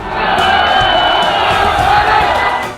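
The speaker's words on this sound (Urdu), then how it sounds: "پھر بھی نعرے بازی جاری رہی" A loud, dense crowd shouts and chants slogans inside a provincial assembly hall, a continuous roar of many voices with no pauses.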